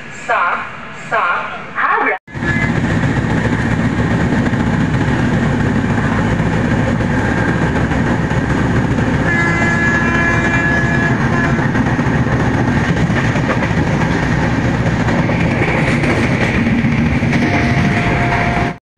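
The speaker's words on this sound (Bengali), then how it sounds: "ট্রেন এসে পৌঁছেছে প্রয়াগরাজ চৌকি স্টেশনে।" The 12177 Chambal Express, running late in fog, stands at Prayagraj Chheoki station on a bitterly cold night. A loud, steady rumble of the train begins abruptly and carries on with background voices.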